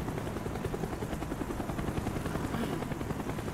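A helicopter in the video game Call of Duty: Black Ops gives off a loud, continuous rotor drone and rumble that stays steady throughout, with no voices over it.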